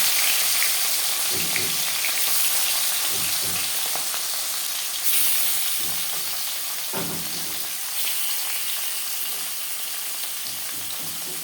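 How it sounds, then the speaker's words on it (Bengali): Snakehead fish pieces rubbed with salt and turmeric fry in hot refined oil, giving a loud, continuous sizzle and crackle with occasional stirring bumps and no talking. "মাছ হালকা করে ভেজে নেব"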